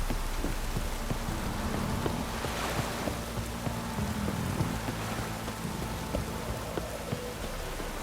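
Steady rain in The Witcher 3: Wild Hunt patters continuously over a surface, a dense even hiss with faint low rumbling underneath and no voices.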